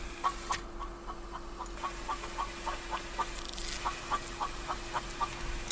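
A chicken in a video game clucks in a quick, regular series of short clucks over a steady background hum, fairly close and clear, with no talking.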